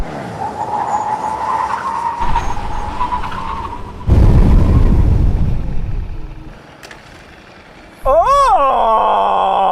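A Ducati motorcycle and an Audi car make full emergency stops on a track: an engine drones, then loud rushing and skidding noise takes over before fading out, and a rider's voice cuts in at the end.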